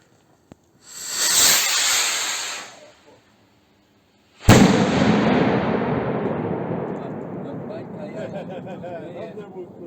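A titanium firework rocket launches with a rising hiss, then a sharp bang bursts into a long crackling, sizzling decay.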